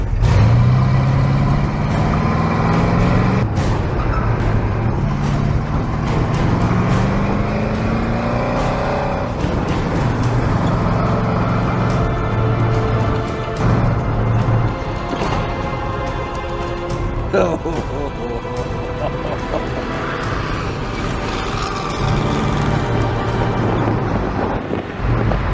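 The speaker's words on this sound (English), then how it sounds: "We figured it just wouldn't make sense if we didn't do the autocross with the trailer attached." A pickup truck towing a trailer on an autocross course roars through its run, engine rising and falling in repeated surges as it accelerates and brakes, loud and close throughout with occasional clunks.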